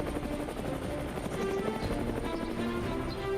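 An Indian Air Force helicopter flies over a remote drop zone in Arunachal Pradesh, its steady rotor and engine drone continuous and fairly loud throughout, with no talk.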